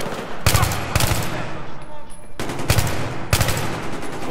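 Four sharp bursts of automatic gunfire from Battlefield 3 ring out in an even rhythm, loud and close, each cluster of rapid shots separated by short gaps.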